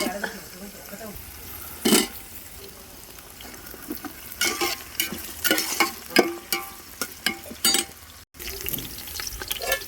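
Onions frying in a pan in a home kitchen alongside carrots and potatoes, a steady sizzle under intermittent stirring clatter and scrapes, with a voice talking over it.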